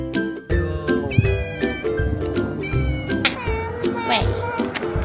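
A cat meows repeatedly up close in Los Angeles, loud drawn-out cries one after another, with people talking in the background.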